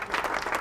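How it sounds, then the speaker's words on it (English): A brief, steady burst of applause played as a sound effect on a radio show, filling the whole moment without any voices on top. "Where's our applause, Lewis?"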